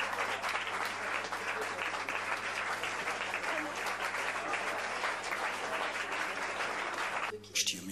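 A large audience at a Celine Dion press conference applauds steadily, dense clapping filling the space at an even level before cutting off near the end.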